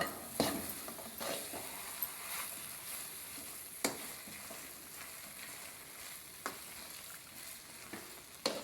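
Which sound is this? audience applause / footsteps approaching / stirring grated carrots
stirring grated carrots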